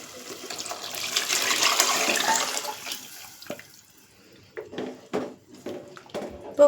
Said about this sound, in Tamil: இப்போ கரைச்சி வச்சதை ஊற்றிடலாம்.